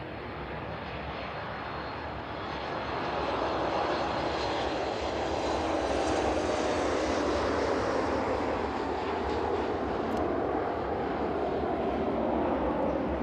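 An Ilyushin Il-76 jet departing East Midlands Airport, a deep, loud rumbling roar that swells after a couple of seconds and holds steady and powerful, heard close up with no talk.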